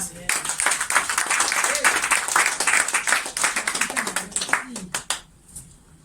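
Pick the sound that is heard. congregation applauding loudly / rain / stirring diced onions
congregation applauding loudly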